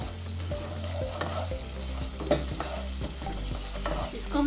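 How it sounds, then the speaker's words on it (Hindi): Onions and masala sizzle steadily in a pan, softening as they fry, while a spoon stirs and scrapes through them in repeated strokes, close and continuous with no talking. "5 से 10 मिनट के लिए भूनूंगी अच्छे से, और ताकि प्याज बिल्कुल मेल्ट हो जाए और मसाला हमारा भून जाए"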